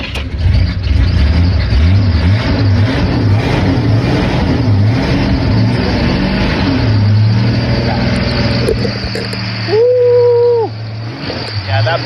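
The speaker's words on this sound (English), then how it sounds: "that belt's squeaking because it hasn't been powered up in a while" 1982 Jeep Wagoneer Laredo cold start, its engine running loud and rough up close with a squeaking belt, revs rising and settling, and a brief squeal toward the end as a person talks nearby.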